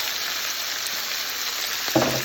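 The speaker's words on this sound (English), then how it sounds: "And you're going to hear it sizzle nicely." Plum tomatoes sizzle and fry steadily in a pan with bacon, a continuous close crackle with a brief louder burst near the end.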